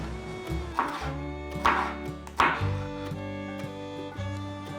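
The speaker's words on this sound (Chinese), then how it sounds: "把黄甜椒切一半，用半颗就好。" A knife cuts a yellow bell pepper on a cutting board, a few distinct chops spaced about a second apart, close and fairly quiet over a steady background tone.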